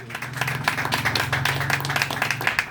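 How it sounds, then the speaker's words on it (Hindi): A church congregation claps enthusiastically for God during a Hindi sermon, a steady run of many hands clapping at moderate loudness, with a low sustained tone, likely music or a held voice, underneath throughout. "ऐसे खुदा के लिए जोरदार तालियां बजाएंगे"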